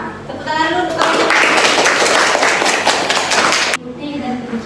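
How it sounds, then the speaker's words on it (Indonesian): Classroom students clap for a classmate's presentation, a burst of brisk, close hand clapping that starts abruptly after a teacher's voice and cuts off suddenly, with talking resuming after it. "tepuk tangan dulu untuk kamu"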